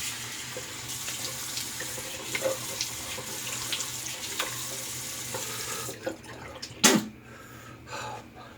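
Tap water runs steadily into a bathroom sink during a rinse after a wet shave with a RazoRock Lupo stainless razor, a soft continuous flow with a brief louder splash near the end.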